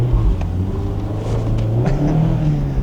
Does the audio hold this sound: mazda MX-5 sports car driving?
yes